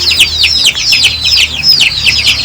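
Meat chickens cluck and chatter continuously in a busy, overlapping flock, fairly close and steady throughout, with no talking.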